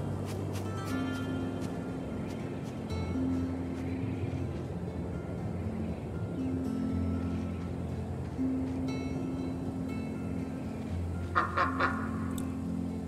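Duck quacking in the game Lost Ember, repeated nasal calls at irregular intervals over a low ambient drone, with a louder flurry of sound near the end.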